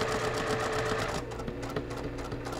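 A Juki sewing machine stitches binding onto a quilt. It makes a fast, steady mechanical whirr with rhythmic needle clatter close to the listener, then slows into slower, separate stitch ticks toward the end.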